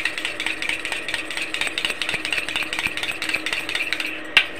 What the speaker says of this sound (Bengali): প্রথমে দইটাকে একটু চামচ দিয়ে ভালো করে ফাটিয়ে নেব।